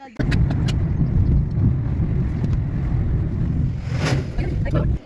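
A car rumbles close by with a steady, broad engine and road roar that runs for several seconds under occasional voices, starting abruptly and cutting off near the end.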